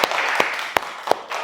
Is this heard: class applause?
yes